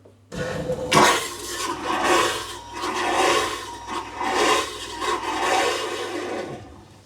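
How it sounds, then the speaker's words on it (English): A marine toilet on a Riviera motor yacht flushes with a surging, rushing gurgle that pulses several times over about seven seconds, close by and with no talk. "So now it's in the toilet, we just flush it through."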